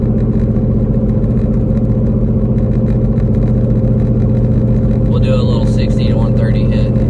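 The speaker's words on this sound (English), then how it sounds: "Just still kind of letting the car warm up a little bit." A Whipple-supercharged Ford Mustang with a 10-speed gearbox idles steadily while warming up, a loud, even low engine drone holding through the clip, with faint voices or chatter toward the end.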